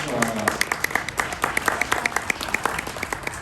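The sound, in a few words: audience applauding a guest farmer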